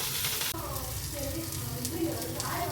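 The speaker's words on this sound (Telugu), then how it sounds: "అండ్ మిర్చి వేసి ఫ్రై చేయాలి కొంచెం అవి మొత్తం ఫ్రై అయిన తర్వాత కొంచెం సాల్ట్ కూడా యాడ్ చేయాలి" Chillies fry in a pan for a Kerala-style banana leaf fish fry, a close, steady sizzle with a few stirring scrapes.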